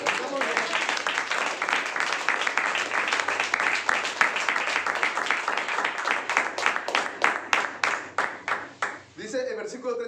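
A church congregation claps loudly in praise during a Spanish-language sermon, the applause building into sharp, rhythmic unison claps that grow more distinct and spaced before fading out, with voices audible near the end.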